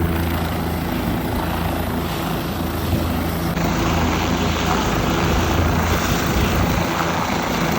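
Helicopter in flight over the Himalayas between Kedarnath and Badrinath, a loud, steady rotor and engine roar heard from inside the cabin, constant throughout with no pauses.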